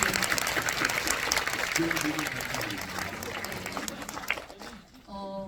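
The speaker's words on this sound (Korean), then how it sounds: "박수 부탁드릴게요." An audience at a film screening Q&A applauds throughout, a dense steady patter of claps with voices over it, tapering off near the end as talk resumes.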